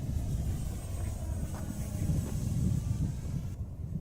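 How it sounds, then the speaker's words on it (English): A student-built RC plane flies, heard as a faint, steady engine whine under windy, muffled background noise, played back as a video recording. "this is the RC plane that we built for last semester"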